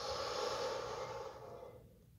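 A person stretching with arms out takes a deep breath, a soft, quiet, airy rush of air that swells and then tapers off over about two seconds, with no talking.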